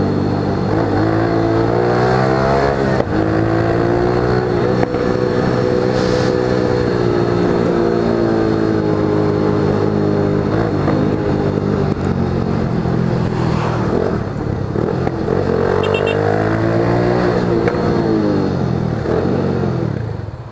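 Yamaha XTZ125 and FZ6 motorcycles rev hard during wheelies outdoors, a loud, continuous engine roar rising and falling in pitch throughout with no pauses.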